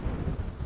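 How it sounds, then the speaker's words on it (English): Steady, loud wind buffeting the microphone while riding an Inmotion V11 electric unicycle outdoors, a brief continuous low rumble with no talking. "Whoa, my God, it's windy."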